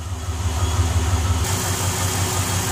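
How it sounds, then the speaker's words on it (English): A 2008 Pontiac Grand Prix GXP high-mileage engine idles smoothly and steadily with a low, even rumble, close up and with no one talking. "now that you heard the engine, I'd say it's pretty quiet for the amount of miles on it"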